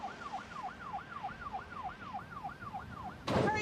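An ambulance siren wails in a steady rising and falling cycle, moderately distant, before a sudden burst of louder broadband noise at the end.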